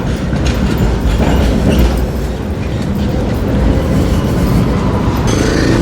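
City tram passing on rails, a loud, steady rumbling roar with wheel noise throughout, close by and continuous, no voices.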